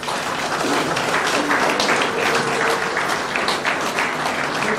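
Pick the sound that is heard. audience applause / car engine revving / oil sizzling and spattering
audience applause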